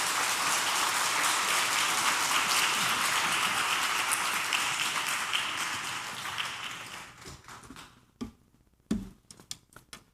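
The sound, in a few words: congregation applause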